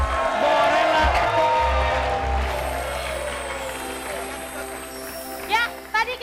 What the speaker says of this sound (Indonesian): tepuk tangan sekali lagi Kade, buat- Bebek, Borela